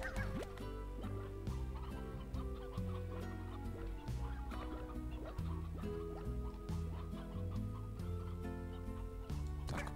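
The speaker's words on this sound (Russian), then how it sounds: "Курица, ты что тут делаешь вообще?" A chicken clucks in the video game Slime Rancher, with short repeated clucks over a bright, busy game music loop that plays steadily throughout.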